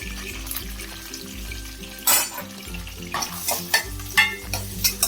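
Thinly sliced onions sizzle in hot sesame oil in a pan while cooking Tamil egg curry. Louder bursts of frying and spoon scraping come near the end over a steady low electrical hum.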